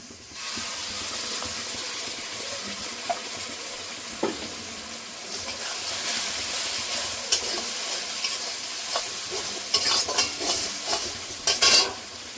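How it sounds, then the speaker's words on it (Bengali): Poppy seed paste hits onions already fried until red in a pan, giving a steady sizzle with repeated scraping stirs and clinks, close and moderately loud, with no talking. "দেখুন বন্ধুরা পেঁয়াজটা লাল করে ভেজে নিয়েছি, এবার পোস্ত বাটাটা দিয়ে দেবো।"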